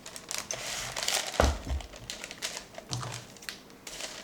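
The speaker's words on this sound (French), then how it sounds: "je vais déjà scotcher un côté comme ça" Adhesive tape is pulled off the roll and pressed down along one side in close, crackly tearing and crinkling bursts, with a few soft thumps mixed in.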